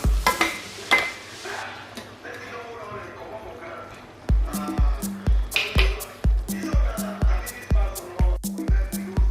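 A spoon stirs efo riro, a Yoruba spinach stew with pomo, fish, meat and shaki, in a pot. Speech comes first, then a steady run of close, loud, rhythmic scraping knocks against the pot.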